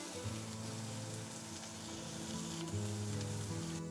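Onions sizzling in oil in a pan during dinner cooking aboard a cruise near Cancun, a steady close crackling frying hiss with a low hum underneath, continuous throughout with no talking.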